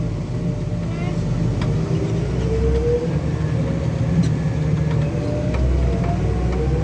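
Terra-Gator TG7300 engine held under throttle, a steady loud low drone with a rising whine that fills the whole stretch, while people talk over it.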